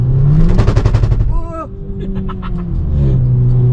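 A car's tires spin and slip under a loud, rising engine rev, followed by brief rattling bursts and a steady engine drone over roughly four seconds, all close by.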